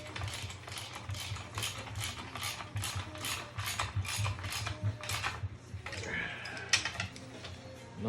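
Screws being driven into the top cover of an SM465 transmission, a run of rapid, regular metallic ratchet clicks close up, then a brief scrape and clatter of parts.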